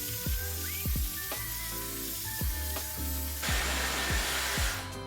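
A Dyson Airwrap dryer attachment blows steadily through hair, a loud continuous airy whoosh with a whining tone, punctuated by repeated low thumps and brief handling sounds, shifting to a brighter hiss near the end.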